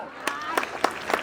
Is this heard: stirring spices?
no